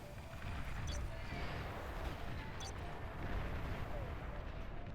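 Bombers unloading on ground positions during an 8v8 match of Beyond All Reason on Koom Valley, a dense, continuous rumble of heavy explosions rolling steadily through the whole stretch with no pause.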